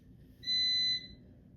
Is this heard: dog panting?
no